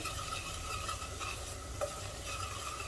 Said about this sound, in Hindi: मसालों को मिक्स कर लेंगे इस तरह से